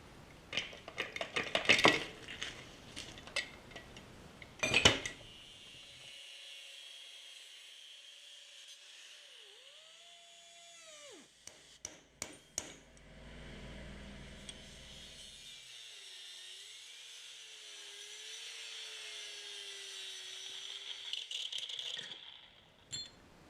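A notch is cut out of the pedal-box firewall on an Audi Quattro rally replica, with loud metallic rattling and clanks, then a long steady cutting drone whose pitch wavers, broken by a few sharp knocks. No one speaks.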